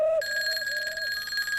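Telephone ringing with a continuous bright electronic trill, close and steady through the whole moment, no voices over it.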